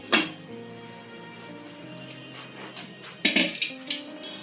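A metal lid clanks onto a pot of potato curry simmering on the stove, one clear knock at the start and a cluster of sharper clinks near the end over a low background hum.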